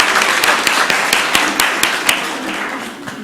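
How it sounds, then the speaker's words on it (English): An audience at a city council meeting in Columbus, Georgia gives a round of applause, a loud, close burst of clapping with a few sharp individual claps standing out, tapering off toward the end. "Let's give them a big round of applause."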